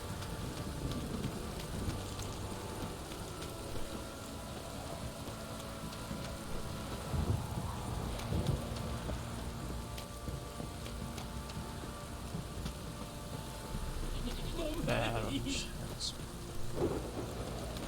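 Steady rainfall with low rumbling thunder in The Witcher 3: Wild Hunt, a constant wash throughout, joined by brief higher sounds near the end.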